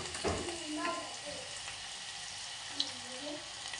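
Green chilies and garlic frying in hot oil after mustard seeds for tamarind sambar, a soft steady sizzle with a few stirring scrapes and a sharp click, while someone talks over it.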